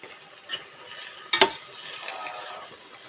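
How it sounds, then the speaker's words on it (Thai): Onion, carrot and potato stir-fried in a pan for a Japanese-style pork curry: a soft, steady sizzle with scraping stirs and one sharp utensil clack near the middle, close up and without talking. "เราก็จะผัดให้หอมหัวใหญ่แครอทแล้วก็ มันฝรั่งเขานิ่มนะคะ"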